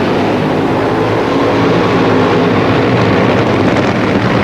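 Nitro-burning Funny Car drag racing engines of about 2,000 horsepower roar continuously at a 1979 drag strip, a loud, dense and steady engine drone with wind-like rumble and no break.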